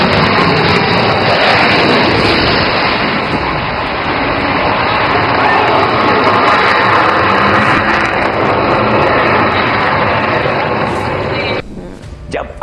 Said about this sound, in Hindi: किस तरह से भारतीय वायुसेना के लड़ाकू विमान गरज रहे